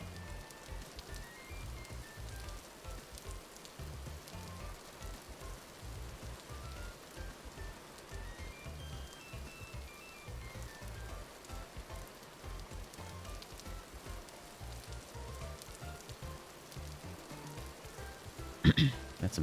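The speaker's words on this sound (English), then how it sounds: "The rain sound is nice and soothing" Rain falling in the video game Vintage Story, a steady soft patter and hiss on surfaces throughout, fairly quiet and continuous, with faint game music underneath.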